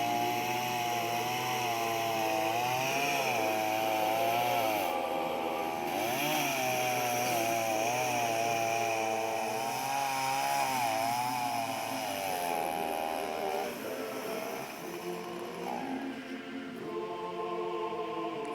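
A petrol chainsaw cutting firewood outdoors runs loud and close, its whine wavering up and down as the engine bogs and recovers, then sputtering and fading as it runs out of fuel near the end.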